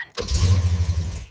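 A restored 60-year-old Volkswagen T2 engine catching after a brief crank and settling into a rough, throbbing low idle, close and loud, with no voices.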